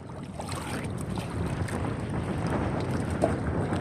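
Strong wind roars across an open fishing boat out on the water during a typhoon, a steady broadband rush that swells slightly louder toward the end, with no talk over it.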